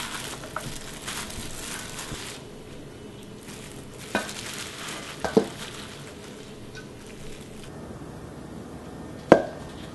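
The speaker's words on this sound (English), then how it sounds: "really gently mix." Fragile acorn jelly (dotorimuk) is mixed very gently with seasoning in a bowl, soft quiet rustling and faint squelching with a few isolated clinks of a utensil, close and subdued, no speech.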